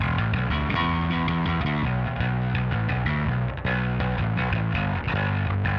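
Heavily distorted bass guitar riff through a Mosky Third Space multi bass amp's distortion preamp, thick and gritty, playing continuously and loud with no voices.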